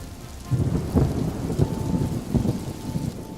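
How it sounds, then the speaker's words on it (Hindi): Heavy rain pours down steadily while deep thunder rumbles and rolls through it, with a few louder cracks rising above the constant downpour. "धीरे धीरे करके बारिश बहुत तेज हो जाती है"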